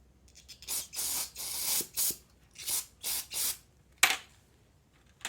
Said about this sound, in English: You should see spray coming out of all of those little holes.